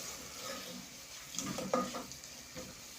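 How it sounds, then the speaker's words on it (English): Beef stirred with curry powder in a cooking pot gives a soft, low sizzle, with a few scraping and clinking stirring knocks near the middle. "Let's mix it with curry powder"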